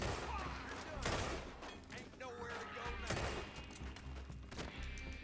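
Gunshots ring out in Red Dead Redemption 2 in several heavy, booming bursts spread across a few seconds, with clatter and game noise between them.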